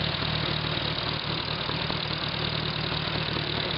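A 1943 Hobart A3 WWII generator powered by a Hercules engine runs at a steady idle, giving a constant low mechanical drone with a faint rhythmic knock, close and unbroken throughout.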